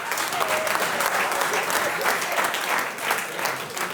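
A concert audience at a live song performance claps loudly and densely, the applause continuous and close, with faint crowd voices mixed in.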